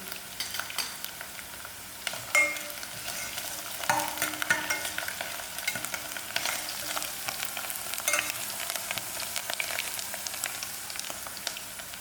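Masala and mustard seeds frying for bhindi in chutney, a bright crackling sizzle with frequent spoon scrapes and clicks against the pan as it is stirred, steady and close.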